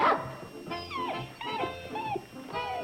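A dog gives short yips and whimpering whines in several close, rising and falling bursts, with a voice briefly present at the start.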